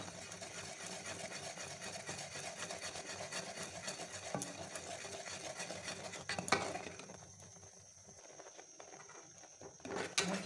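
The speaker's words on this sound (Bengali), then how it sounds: "এটাকে আর একটু ফুটিয়ে নেবো" Thick kheer flavoured with cardamom simmers in a pot while a spoon stirs and scrapes steadily, with soft bubbling and clinks of utensils throughout and a brief quieter lull near the end.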